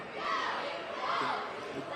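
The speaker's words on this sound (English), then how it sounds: "But again, the crowd reacts." Crowd at a girls high school basketball game reacting with a broad, sustained murmur and cheer that swells and holds through the moment, filling the gym at moderate loudness.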